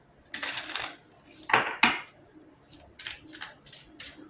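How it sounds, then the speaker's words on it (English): Tarot cards being shuffled by hand, heard as a few short riffling bursts separated by brief pauses, close and fairly quiet with no talking. "Allow me to shuffle."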